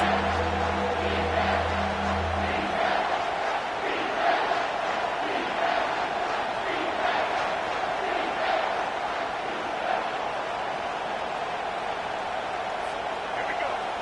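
A stadium crowd in an American football video game roars as a steady, distant wash during a big third-down play, under continuous commentary.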